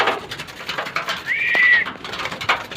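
Caged pigeons stir near the coop, with one clear rising call standing out over soft fluttering and scattered bird noise, close by and fairly loud.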